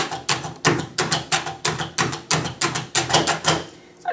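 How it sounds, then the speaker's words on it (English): An adaptive chopping tool is pushed down repeatedly onto food on a cutting board, giving about a dozen sharp, evenly spaced chopping clacks in a steady, brisk rhythm, close and loud with no talking. "Hold that firmly with one hand and then just push, push, push. The more you chop, the more finely minced it will be."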